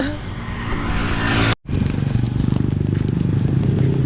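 A manual-clutch motorcycle runs with a steady, loud engine drone and rhythmic pulsing; the sound cuts out briefly partway through, then resumes at a similar level, with wind rumble and no speech heard.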